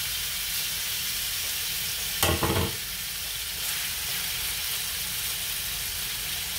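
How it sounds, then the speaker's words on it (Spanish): Chicken for fajitas fries in a pan with a steady, close sizzle, broken once by a brief louder stirring scrape partway through. "a poner que se vaya friendo hasta que se seque bien"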